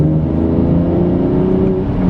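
A supercharger-kitted car accelerates steadily through the gears, its engine note rising and holding in a loud, continuous drone with no voices.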